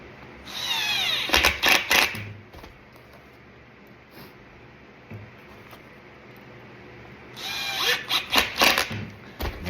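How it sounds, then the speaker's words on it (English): An impact driver snugs screws into a new cabinet hinge in two short, close bursts of rapid hammering clatter, separated by several seconds of quiet room tone. "you can use a drill. I like the impacts myself."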